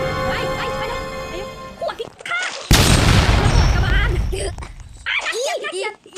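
Loud video game gunfire and a burst of explosion noise break out midway, with an excited voice shouting and chattering throughout.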